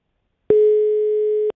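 A single steady telephone tone sounds for about one second, clean and loud, during a call to a studio guest, then stops abruptly.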